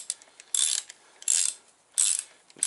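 A socket wrench ratchets as it loosens a sprocket bolt on a Ducati Hyperstrada motorcycle, giving three or four close, bright bursts of rapid clicking with short gaps between them and no talk.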